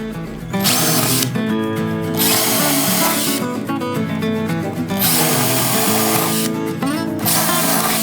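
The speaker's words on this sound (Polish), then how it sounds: "muszę wywiercić otwory, które będą yy, mniej więcej wielkości kołka drewnianego" A power drill bores holes about the size of a wooden dowel into wood for a DIY project, whining loudly in three long bursts separated by short pauses.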